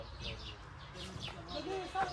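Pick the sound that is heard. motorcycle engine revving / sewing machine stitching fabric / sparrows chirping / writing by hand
sparrows chirping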